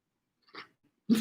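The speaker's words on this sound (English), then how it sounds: "That Parmesan is crunchy." Crunchy solidified Parmesan appetizer being bitten and chewed at a pre-Derby party, two short crisp crunches separated by a pause, close and alone.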